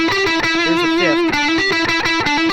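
A distorted electric guitar with the pickup selector in the fourth position plays a short bluesy phrase, sustained notes and a bend ringing loud and alone through an effects chain.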